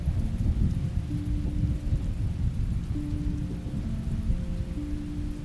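Rain falls as a steady, dense wash with low rumbling underneath, like a thunderstorm sound effect, continuous and fairly loud with no voices.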